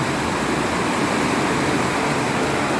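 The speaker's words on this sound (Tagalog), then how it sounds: "Lakas na ulan." Heavy rain in Cainta pours down in a dense, unbroken hiss, loud and close, steady throughout.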